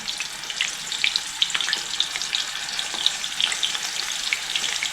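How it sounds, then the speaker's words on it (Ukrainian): Steady crackling sizzle of meat frying in hot oil, with dense popping and spitting throughout, close and continuous, no voices. "Тепер будемо смажувати м'ясо."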